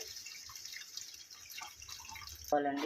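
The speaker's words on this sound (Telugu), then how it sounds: "ఇప్పుడు చింతపండు కలిపింది వేసుకోవాలండి" Tamarind juice poured into a simmering fish curry makes faint, soft liquid splashing and dripping, quiet throughout, with a brief tonal clink near the end.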